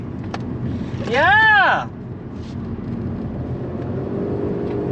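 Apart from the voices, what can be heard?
2017 Honda Civic 1.5 turbo engine accelerating hard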